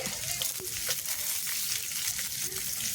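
Chopped onions and garlic fry in a pan for a spinach and lentil dish, giving a soft, steady sizzle with light stirring clicks, fairly quiet and close, with no talk.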